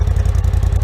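Polaris RZR Turbo S with a straight-pipe exhaust, its engine firing up into a loud, close, deep pulsing rumble with a choppy low beat.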